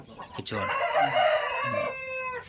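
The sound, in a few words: rooster crowing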